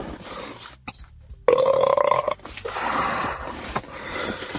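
A man belches loudly after eating bacon burgers and drinking Pepsi, one long croaking burp rising out of quiet background noise, followed by softer breathy sounds.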